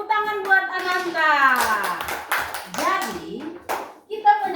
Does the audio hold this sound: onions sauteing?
no